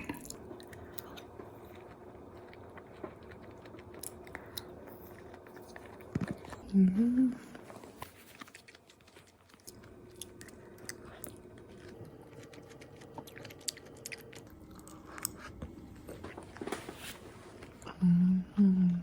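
Soft, close biting and chewing of melon, moist squishy mouth sounds that come in scattered bursts across a quiet room, with a person murmuring now and then between bites.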